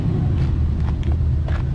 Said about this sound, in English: So let's go on to the engine, start it up.